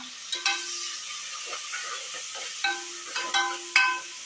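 Sliced onions and green chillies sautéed in a pan: a soft, steady sizzle under repeated scraping strokes of a utensil, with several sharper clinks and ringing taps against the pan.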